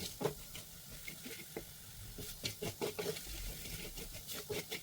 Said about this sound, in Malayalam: നല്ല മുളക് പൊടിയും കാശ്മീരി മുളക് പൊടിയും കൂടെ ചേർത്ത് പച്ചമണം മാറുന്നത് വരെ ഒന്ന് ഇളക്കി കൊടുക്കാം